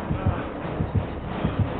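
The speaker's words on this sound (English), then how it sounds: "Heartbeat." Heartbeat warning cue from the Dead by Daylight video game, a deep, rhythmic double-thump pulse repeating steadily about every third of a second over a low background hum, with no talk.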